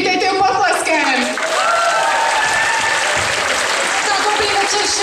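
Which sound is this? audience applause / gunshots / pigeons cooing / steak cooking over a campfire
audience applause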